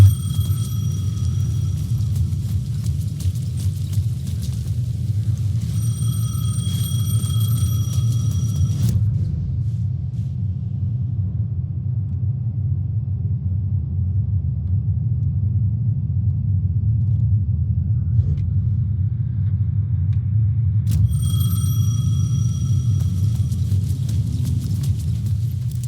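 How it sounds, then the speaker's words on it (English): A payphone rings at the edge of a plaza in a video game, its electronic trill sounding in repeated bursts over a constant low rumble, with a long quiet gap between rings. "The payphone at the edge of the plaza was ringing again."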